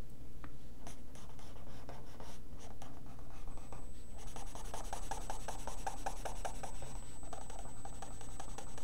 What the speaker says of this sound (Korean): 사인펜 진한 걸로 하면 너무 새카매지니까 약간 연한 사인펜으로 합니다